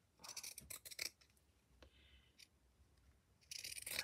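Scissors snip through quilt fabric in a few quick close cuts, then a quieter stretch of faint rustling before another burst of crisp cutting at the end.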